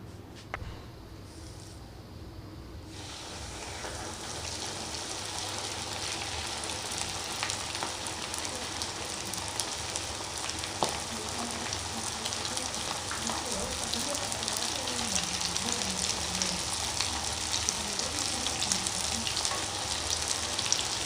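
Flour-coated chicken frying in hot oil for KFC-style village cooking, a steady close sizzle and crackle that keeps building, with a voice heard faintly beneath it.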